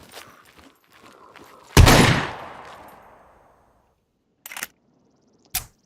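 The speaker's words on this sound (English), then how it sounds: "we are one-tapping him in the chest with a shotgun" A shotgun blast in the survival video game Scum, one sharp loud report that rings out and decays over about a second, then two shorter sharp bangs follow after a pause.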